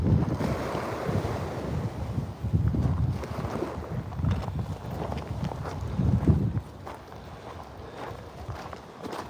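Waves break on the beach at Cromer in North Norfolk, England. The surf rolls in as a loud, rumbling wash heavily mixed with wind buffeting the microphone, then eases to a quieter hiss near the end.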